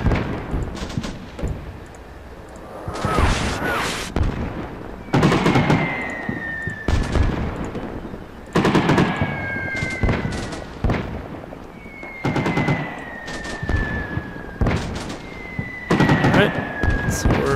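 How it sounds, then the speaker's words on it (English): Suppressive gunfire in Combat Mission Shock Force during an urban US assault in Al Amarah, with repeated sharp bursts and cracks spaced a second or two apart, some with ringing tails, loud and close. "we're going to lay down simultaneous suppressive fire"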